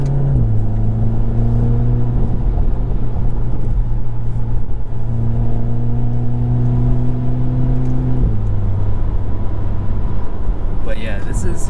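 A Volkswagen MK7 Golf R fitted with a BMS pedal tuner drives steadily, its engine holding a low, even drone with a small shift in pitch just before the midpoint, with road rumble underneath throughout.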